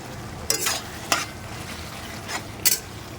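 Prawns and fenugreek leaves stir-frying over high gas heat in a pan, a steady sizzle broken by a few sharp scrapes of a spoon against the pan.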